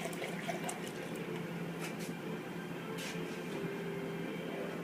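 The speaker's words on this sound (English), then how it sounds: "So we'll go ahead and pour some of the activator in here." Activator liquid for carbon hydro-dipping poured into a container, a faint continuous trickle and splash with a few brief clinks, no talk.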